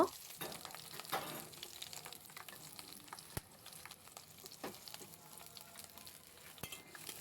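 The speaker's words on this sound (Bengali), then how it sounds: "এখন একটু তেল গরম হয়ে গেল পেঁয়াজ কাঁচামরিচ রসুন দিয়ে শাকটা আগে বসিয়ে দিব" Onion, green chili and garlic fry in hot oil in a home kitchen, a steady close sizzle broken by occasional sharp clinks and scraping stirs, with no voice over it.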